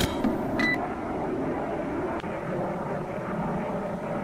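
Aircraft engine drone in a naval video game as a plane returns to base, a loud steady roar with a few brief electronic beeps near the start.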